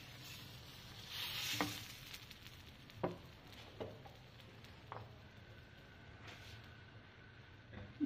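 Dosa batter sizzles on a hot pan, a faint steady hiss close by, with a few soft taps and clinks from a utensil scattered through it.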